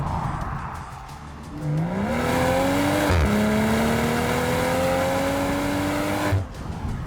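A BMW M340i engine and exhaust rev up and hold a loud, rising tone with a brief shift midway, then drop back off near the end; no voices.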